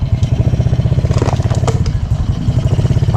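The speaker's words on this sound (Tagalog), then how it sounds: "Andarin ko lang to ating motor" A motorcycle engine idles loud and close with a rapid, even putter, and a few clattering thumps sound over its steady pulse.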